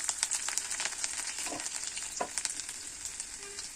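Cumin seeds and chopped garlic fry in a pan for a curry, a steady bright sizzle with small pops and a few stirring scrapes, close and without talk.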